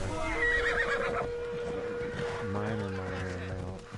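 A horse in the video game Assassin's Creed Odyssey gives a loud, wavering whinny, followed by snorting and hoofbeat clip-clop, with game ambience underneath.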